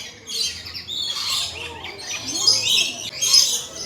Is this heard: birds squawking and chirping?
yes